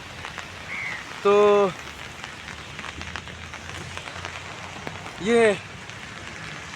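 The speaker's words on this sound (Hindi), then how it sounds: "इस नदी के किनारे काफ़ी तेज़ बारिश हो रहा है।" Heavy rain beside a fast-flowing river makes a steady, dense hiss throughout. Two short tonal calls cut through it, and someone speaks briefly.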